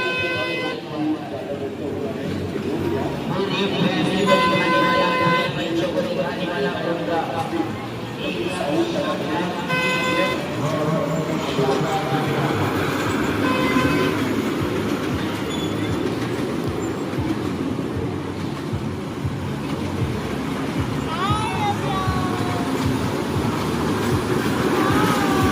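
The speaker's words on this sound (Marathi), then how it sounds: "ट्रेन चालू झाली." A moving train rumbles steadily throughout, with horn toots and clattering, while people talk over the continuous noise.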